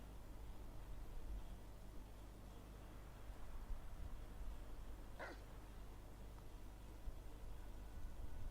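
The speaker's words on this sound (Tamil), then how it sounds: "என்ன இது நாய் குலைச்சது?" A single short dog bark sounds in the Hogwarts Legacy video game, faint and distant over a quiet hissing background.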